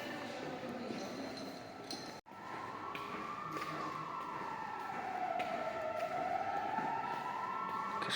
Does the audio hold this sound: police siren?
yes